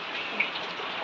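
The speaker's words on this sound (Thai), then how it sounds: "บรรยากาศฝนตก" Steady rain falls outdoors at a rural garden as a soft, even hiss that is continuous and moderately loud, with no voices or other sounds.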